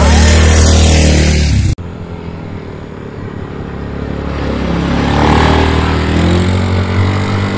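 A motorcycle engine idles and then gradually revs up, steady and fairly close, following an abrupt cut at the start.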